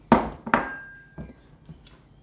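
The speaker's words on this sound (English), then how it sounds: "now I've got my corn flour, vinegar and vanilla essence in here, and I'm just going to add that and stir it in" A spoon stirs corn flour, vinegar and vanilla essence into meringue mixture in a bowl, giving two sharp close clinks followed by a few softer, fading taps.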